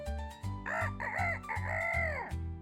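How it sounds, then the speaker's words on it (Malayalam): A rooster crows loudly and close, one full drawn-out call over a rhythmic low thumping backdrop, with no speech. "കുറുക്കൻ കോഴി മനോഹരമായി പാടുന്നത് കേട്ടു."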